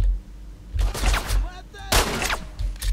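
Gunfire in the S.T.A.L.K.E.R.: Lost Alpha video game, with several loud, sharp reports in quick succession and a heavy blast near the middle, each burst trailing off into a brief echo.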